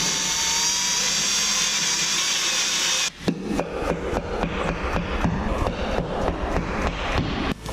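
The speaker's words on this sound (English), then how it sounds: "Grab our drill." A power drill whirs into a wooden stud in a garage, a steady high whine for a few seconds, then a rapid series of sharp, rhythmic ratcheting bursts, close and loud.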